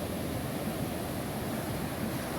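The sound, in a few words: whitewash of breaking ocean waves on a beach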